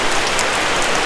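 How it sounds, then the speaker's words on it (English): Steady rain falls throughout, a dense continuous hiss of drops striking surfaces, fairly loud and close, with no voices. "it's been raining off and on all day today"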